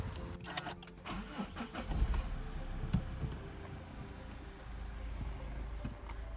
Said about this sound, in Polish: i odpalamy silnik